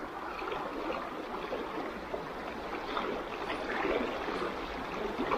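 Strong river current rushing steadily at a crossing, a broad continuous wash of flowing water close by that swells slightly toward the end, with no talk over it.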